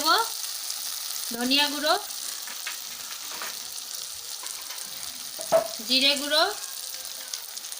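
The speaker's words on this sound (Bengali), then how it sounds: "এবার সব কিছু নাড়াচাড়া দিয়ে ভালোভাবে কষিয়ে" Onion and tomato cooked down with ground spices sizzle softly in a pan, with occasional stirring scrapes, while someone speaks over the frying at intervals.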